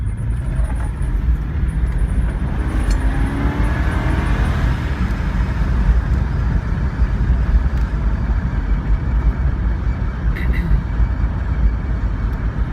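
A 1968 Mercury Montego station wagon with worn shocks rolls down the road, its engine and road noise forming a steady, loud rumble that holds evenly from start to finish with no voices.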